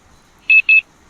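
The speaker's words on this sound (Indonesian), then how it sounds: "Ternyata itu suara alarm jam dan aku pun terbangun dari tidurku." Alarm clock sound effect of two short, bright electronic beeps in quick succession, loud and close against silence.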